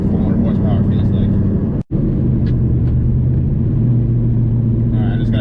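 A Ford Mustang with a 302 stroker V8 rumbling in a low, steady idle-like drone, close and loud, with a brief cut partway through and faint talk over it.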